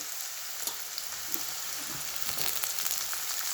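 Mustard seeds sizzle and pop in hot oil in a pan where onion has been fried for kande pohe, a steady bright hiss dotted with small crackles and pops, no voices.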